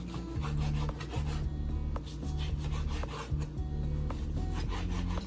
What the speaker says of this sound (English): So you just want to make some nice thin slices, not too thick.